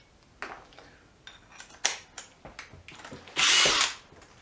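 A DeWalt DCF801 12V brushless impact driver fires in several short bursts and then one longer high-pitched whirring run near the end, heard up close with quiet pauses between the bursts.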